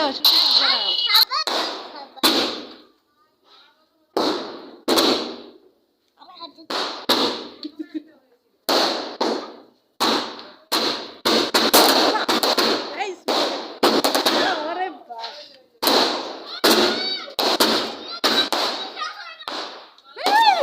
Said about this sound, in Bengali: এটা হচ্ছে থার্টি শট তো তো আমরা বাজিটা নিয়েছি চলো বাজি ফাটাবো